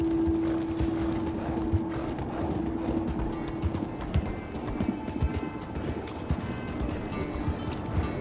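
Horse hooves clopping steadily in the Red Dead Redemption 2 video game on Xbox One X, a continuous rhythmic trot over a droning background with a faint steady tone early on.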